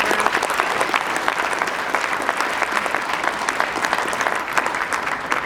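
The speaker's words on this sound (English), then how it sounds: "A round of applause for our wonderful administrators" Sustained audience applause for school administrators at a high school symphonic band concert, many hands clapping steadily and densely throughout, no voices over it.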